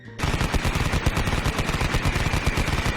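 Rapid bolter gunfire from a Warhammer power-armoured fighter, a dense sustained burst of loud close shots firing in quick rhythm for about three seconds with no pauses.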